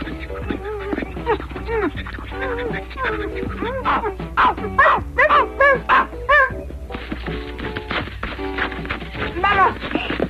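A cartoon dog barks in a short, lively run of yips midway through, close and bright, among animated character voices and background music.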